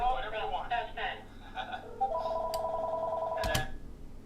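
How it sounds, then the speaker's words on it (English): An electronic telephone ringing tone on a private phone exchange setup holds steady for about a second and a half, following a stretch of speech and ending in a brief clatter. "This phone over here is ringing."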